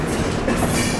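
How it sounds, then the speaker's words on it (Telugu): An AC express train rolls past on the Sanghamitra superfast route, a loud, close, continuous rumble with rail noise filling the whole moment, no voices. "ఇదేదో ఏసీ ఎక్స్ప్రెస్లా ఉంది"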